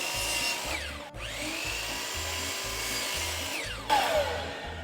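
A power saw set to a 60-degree angle cuts through wood for a craft project, a loud steady whine running throughout, briefly dipping near the start and rising into a fresh cut toward the end.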